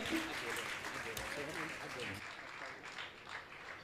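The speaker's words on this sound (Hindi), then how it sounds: "उनके लिए जोरदार ताली बजाकर इनका सम्मान करें" Audience claps loudly at a Jain religious question-and-answer gathering in Mithapur, Patna, a dense burst of clapping that fades out after about two seconds, with talk in the background.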